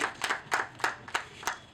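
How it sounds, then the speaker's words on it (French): Audience clapping at a Congolese comedy show, heard as a handful of distinct, evenly spaced claps in a slow rhythmic beat, fairly close, with no talking over it. "Applaudissez pour moi"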